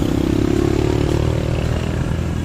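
A motorcycle engine rumbles steadily close by as it moves ahead, a loud continuous mid-pitched drone with no talk.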